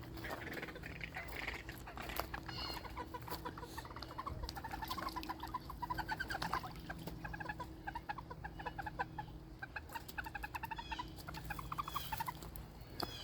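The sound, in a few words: hen green-winged teal duck calling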